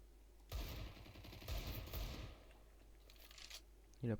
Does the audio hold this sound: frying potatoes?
no